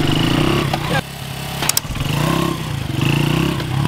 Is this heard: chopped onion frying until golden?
no